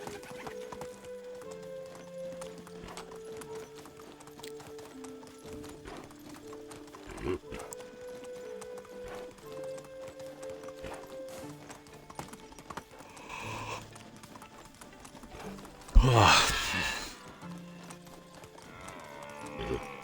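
Horse hooves clip-clop at a steady trot in the medieval life-sim game Medieval Dynasty, running continuously as a soft background rhythm, with a brief louder rustling burst near the end.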